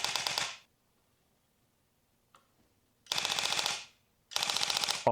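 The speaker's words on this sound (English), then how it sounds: "Let's go full auto. Man, that's got a satisfying clack to it." Haptic VR gunstock Revolt firing on full auto, three loud bursts of rapid mechanical clacking, the first short, then a longer run after a pause and a final burst, with silence between.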